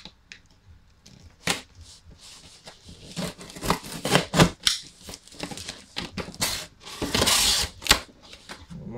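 A box cutter slices open the cardboard and plastic packaging of a Pokémon Mega Lucario box, giving close, repeated scraping cuts and tearing rustles in irregular bursts, with no talk.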